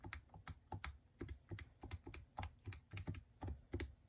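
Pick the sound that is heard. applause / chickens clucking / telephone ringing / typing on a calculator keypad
typing on a calculator keypad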